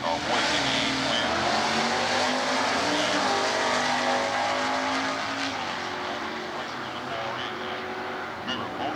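Stock eliminator drag racing cars, a big-block and a low-motor car, roar down the strip at an NHRA divisional event in Atlanta, 1992, a loud continuous engine drone with shifting pitch that eases off slightly late.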